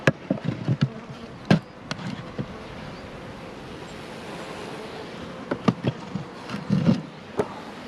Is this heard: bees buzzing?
yes